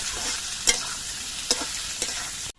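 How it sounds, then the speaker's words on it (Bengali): Potatoes fry in hot oil alongside bay leaves and cumin, a soft, steady sizzle broken by three sharp clinks of a spoon stirring the pan. "এবার আলুগুলো কিছুক্ষণ ভেজে নিতে হবে"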